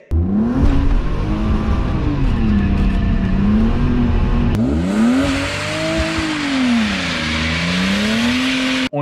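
A car drifts around a pylon with its tyres spinning, the engine loudly revving up and down in long swelling sweeps, with a tyre-squeal hiss rising after the midpoint, close and continuous.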